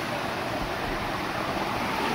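A deep river at night rushes in a dense, steady wash of flowing water, loud and close, with no gaps or talk during a crab-catching outing.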